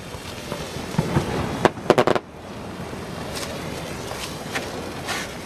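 Fireworks at Marine City go off outdoors in a sharp cluster of cracks and bangs, followed by scattered distant pops over a steady rushing background.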